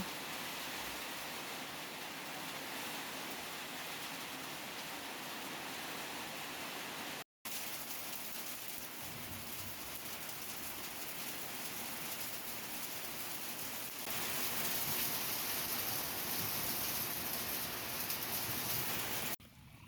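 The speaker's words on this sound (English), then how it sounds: "I watched the trees sway, and it began to pour." Heavy rain pouring down as trees sway, a dense continuous hiss that stops for a moment and then returns louder and fuller.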